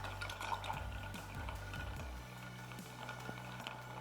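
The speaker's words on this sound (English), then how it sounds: "I'm going to stir for about 60 revolutions," A chocolate Negroni cocktail is stirred with a spoon over ice, faint quick clinks and light scraping repeating in a steady rhythm, quiet and close.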